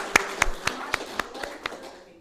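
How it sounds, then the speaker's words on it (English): A handful of single, evenly spaced claps ring out in a church Sunday gathering hall, about eight sharp hand claps slowing and fading over two seconds. "I'd like to give her a round of applause"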